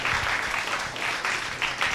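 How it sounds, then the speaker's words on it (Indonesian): An audience at a school event claps for the students in a dense, steady round of applause that holds for the whole stretch, loud and close. "Boleh kasih tepuk tangan dong untuk teman-teman."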